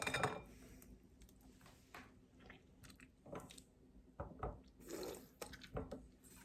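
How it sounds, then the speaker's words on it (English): Water from pressed paper pulp poured and dripping down a sink drain, faint splashes and trickles in irregular bursts with small handling noises between them. "We're just gonna dump that down the drain and then keep trying to press out as much water as we can"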